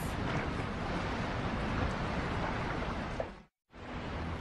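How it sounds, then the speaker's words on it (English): Underwater storm surge churning the seafloor: a dense, continuous roaring turbulence of rushing water, loud and unbroken until a sudden brief silence near the end before the rush resumes. "The storm surge tears into the seafloor."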